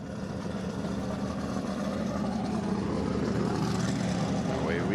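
A B-engine blown gas rear-engine modified roadster runs on the El Mirage dry lake course during SCTA racing, a steady, muffled engine drone held at a distance.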